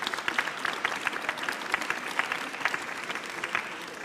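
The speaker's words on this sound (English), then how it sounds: "Please join me in a round of applause for this great panel we have." Audience applause for a panel at an international conference on Ukraine's recovery in Berlin: sustained, fairly dense hand clapping from a hall, even in level throughout with individual claps standing out.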